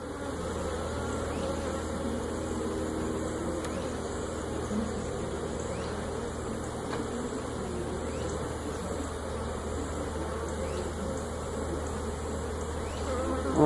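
Honey bees hum steadily from an open hive box while brood frames are worked, a dense, continuous buzz held at a close, even level throughout with no talk.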